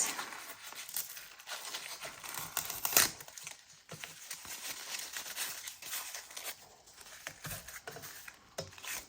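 Waxed paper with tea bags underneath is torn by hand for a journal cover, giving a continuous soft crinkling and ripping texture up close, with one louder rip partway through.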